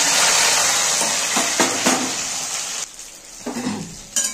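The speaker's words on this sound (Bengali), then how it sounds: "পেঁয়াজ আর কাঁচা লঙ্কাগুলো ভেজে নেবো এখন আমি।" Chopped onions and green chillies fry in hot oil with a steady, loud sizzle close up, broken by a few brief stirring scrapes and clinks of a spoon against the pan; no voices.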